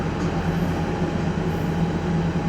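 Steady rumble of a passenger train running from Berlin toward Dresden, continuous low rail noise with a faint hum throughout, close and even in level, no voices.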